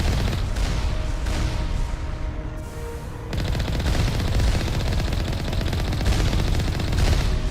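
A large vehicle-mounted cannon in the Mass Effect video game fires repeatedly at the ground, making a loud, sustained barrage of rapid booming shots with a short lull midway and no talking.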